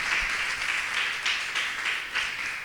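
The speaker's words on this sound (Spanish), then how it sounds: "Aplauso a Dios." A church congregation breaks into sustained applause, steady dense clapping filling the room for a few seconds with no voices over it.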